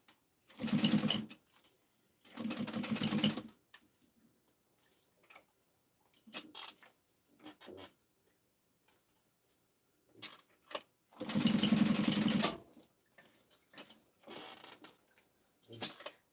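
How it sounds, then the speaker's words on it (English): A sewing machine stitches rows on a mini backpack in three loud, close bursts of rapid mechanical whirring, separated by quieter pauses with small clicks and handling sounds. "And do rows of stitching on each."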